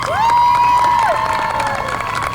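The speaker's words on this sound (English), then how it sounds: "Let's please give him a round of applause" A lively crowd at a high school graduation ceremony cheers and hollers, with one loud, drawn-out whoop rising above the noisy clamour.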